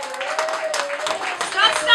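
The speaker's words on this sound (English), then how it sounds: "Are you ready to start clapping your hands?" Audience clapping hands at a live performance event, steady applause running under a speaking voice throughout.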